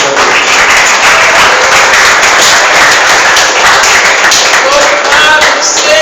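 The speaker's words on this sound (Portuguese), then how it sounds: "E as palmas lá no Senhor nesta noite." Congregation clapping together during a church service, a dense, steady wash of handclaps that stays loud and even for the full stretch, with no voices standing out above it.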